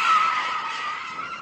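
Tyres on a performance car spin and squeal in one sustained, loud, high screech that fades slightly over a second and a half.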